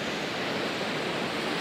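Sea waves wash steadily onto the shore on a windless day, a dense, even roar of surf that fills the whole moment without any voices.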